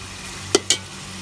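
Chicken being browned in a pot for biryani gives a steady, soft sizzle, with two sharp clanks of a spoon stirring close by and no voices.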